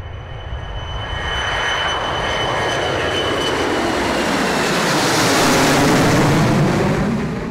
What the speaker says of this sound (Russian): Ту-154 навсегда покидает полосу родного аэродрома, прощаясь с ним своим фирменным звуком двигателей